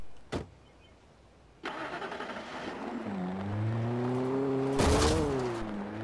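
A car engine in the video game Alan Wake cranks and catches, then settles into a steady, rising idle with a loud mechanical burst near the end, heard alone at close range.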